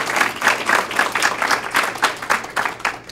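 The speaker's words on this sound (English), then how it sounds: "One more round of applause for all of these wonderful artists." Round of applause from an art gallery audience for student artists, steady dense clapping with pulsing swells, close and lively, fading toward the end, no talk.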